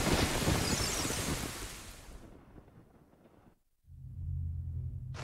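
Rain falls in Zelda: Ocarina of Time as a dense, steady hiss that thins and fades away. A brief silence follows, then a low droning tone rises. No one speaks.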